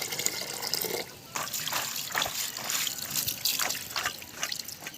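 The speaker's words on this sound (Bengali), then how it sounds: "হঠাৎ বৃষ্টি।" A sudden rain shower falls on an outdoor cooking spot by a pond, where rice was cooking on a moved clay stove. Steady pattering and dripping runs throughout, with a brief dip near the start.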